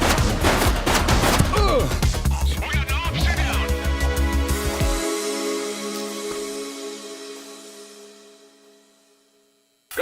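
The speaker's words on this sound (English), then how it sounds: "She's shooting!" Gunfire in the police video game The Precinct: a dense burst of rapid shots over loud game music and effects in the first half, then fading into a sustained ringing tail that dies away near the end.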